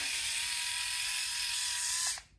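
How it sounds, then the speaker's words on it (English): A small electric head shaver buzzes steadily for about two seconds, a thin, close, motor whine that cuts off abruptly near the end. "it's just this cute little funky head shaver. All you do is push this button"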